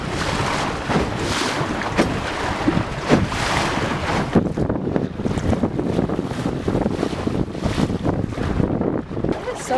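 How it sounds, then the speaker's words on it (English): Brisk wind buffets an O'Day Osprey daysailer under sail on a bay, a loud, continuous gusting rush over the microphone mixed with water noise. "the wind had become quite a bit more brisk, and we had a little bit more exciting sailing"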